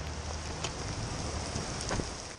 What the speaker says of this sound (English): streets flooding quickly overnight as heavy rain moved into the region